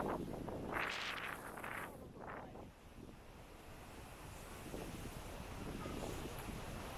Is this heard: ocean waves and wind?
yes